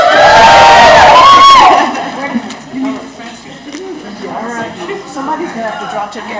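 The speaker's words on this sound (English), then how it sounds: "Let's get a scream." Audience at a conference closing plenary screaming and cheering loudly for about two seconds, then dropping to a murmur of scattered chatter and voices.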